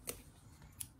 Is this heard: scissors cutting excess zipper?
yes